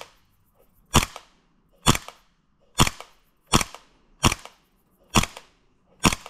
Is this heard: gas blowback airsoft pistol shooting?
yes